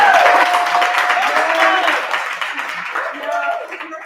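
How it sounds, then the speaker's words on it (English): An audience at a tech and metaverse talk gives a round of applause, a fairly loud patter of clapping that slowly fades while a voice speaks over it. "we want to give her a round of applause"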